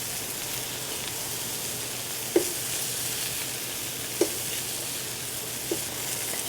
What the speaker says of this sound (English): drop it in the pan and start tossing it on top of the seared steak